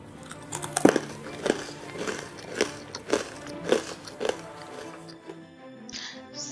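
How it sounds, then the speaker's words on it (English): Crunchy gluten-free kurma snack being chewed close up, with a steady series of sharp crunching bites roughly every half second, fairly loud with no talking. "So crunchy, so tasty, you'll never know it's gluten-free."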